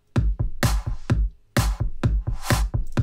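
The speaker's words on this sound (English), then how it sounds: "Really cool tip is to add a reverse clap" Reversed clap samples in a dance track swell and cut off sharply, a series of dry, rhythmic whooshing hits layered over punchy kick-like thumps, clean and close in a produced mix.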